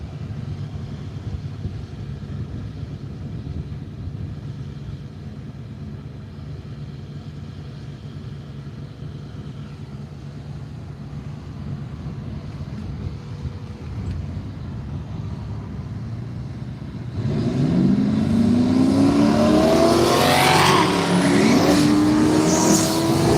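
Drag race cars at Willowbank Raceway, Australia, one a green Torana, idle with a low steady rumble, then launch with a loud surging roar that climbs sharply in pitch as they tear down the strip.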